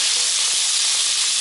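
Sausages in their casings sizzle hard in a frying pan while being stirred, a loud, steady hiss that fills the whole clip without pause.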